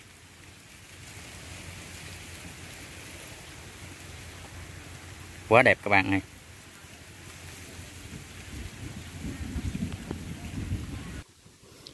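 Steady rain falls outdoors in a steady broadband hiss across the whole stretch, with a brief burst of talk near the middle and the wash thickening toward the end before cutting off.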